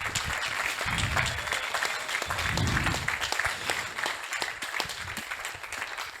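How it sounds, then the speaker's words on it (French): An audience claps continuously, a dense, sustained wash of many hands with low crowd murmur underneath, at an event honouring midwives. "qu'on peut applaudir, faire beaucoup de bruit pour elles"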